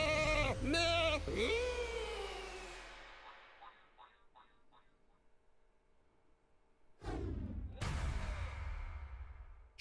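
Sheep Creep enemies bleating in the Skylanders Trap Team video game, several loud wavering bleats up front that fade into softer, rapid game chirps, then a burst of louder effects near the end; no speech.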